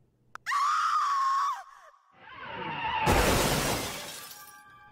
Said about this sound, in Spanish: se escucharon un par de gritos. Uno era de una niña y otro de una mujer.